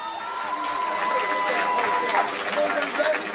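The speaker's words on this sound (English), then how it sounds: "a big round of applause," Arena crowd at a UFC Fight Pass MMA event applauding and cheering both fighters after the bout, a dense continuous roar of claps and voices filling the hall with a steady loud level throughout.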